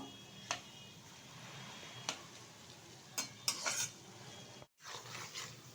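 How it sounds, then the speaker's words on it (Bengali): A faint, soft sizzle of banana blossom peels frying in a pan runs throughout, punctuated by several scraping stirs and clinks of a utensil, with a brief silent break. "একটু সময় নিয়ে কিন্তু ভেজে নিচ্ছি"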